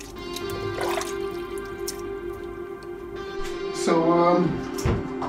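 Raw cow skin is washed by hand in water, giving wet squishing, sloshing and dripping sounds close by, with a busier splashing burst near the end.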